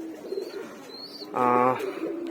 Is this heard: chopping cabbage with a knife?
no